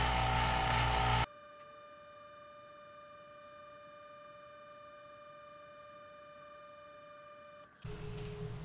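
Vacuum pump for stabilizing woodturning resin, a loud mechanical roar that cuts off abruptly, leaving a steady tonal whine and hum until another machine noise returns near the end.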